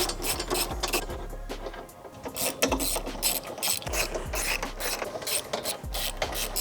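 A ratchet spins off the bolts of the factory strut brace on a BMW M3/M4 (G8X), rapid close clicking in repeated bursts with brief pauses, loud and without speech.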